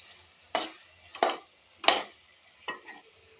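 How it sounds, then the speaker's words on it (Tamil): Okra being stirred and sautéed in hot oil for a Punjabi-style bhindi masala, four separate scraping stirs at a steady pace over a soft sizzle, close and fairly quiet. "இப்போ வந்து எண்ணெயில் வதக்கி வச்ச வெண்டைக்காய் ஆட் பண்ணிக்கலாம். நம்ம நல்லா வதக்கிக்கலாம்."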